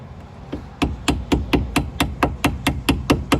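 Hammer blows on a ball joint of a 7th-generation Honda Civic, about a dozen sharp metallic knocks in a fast, even rhythm, loud and close with no talking.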